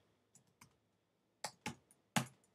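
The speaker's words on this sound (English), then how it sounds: "Real crappy at typing today." Keystrokes on a computer keyboard arrive in a few scattered bursts, with short clusters of sharp, close clicks separated by quiet pauses.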